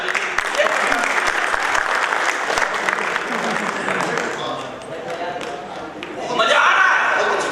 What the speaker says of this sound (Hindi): एक बार अपने सम्मान में ताली बजा दीजिए।